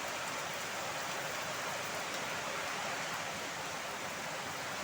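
A heavy downpour from a low-pressure system makes a constant, full wash of hissing noise. It stays loud and unbroken throughout, with no voices.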